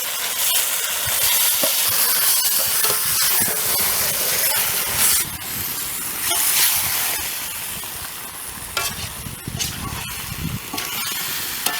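Chicken pieces go into a hot pan of softened onions and tomatoes for a village-style pepper chicken, giving a loud, continuous hiss and crackle of sizzling throughout.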